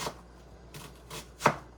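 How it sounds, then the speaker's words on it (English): A knife chops red onion on a cutting board, making four crisp, separate taps spaced unevenly, the last one loudest and close, with no talking. "Just chop that down."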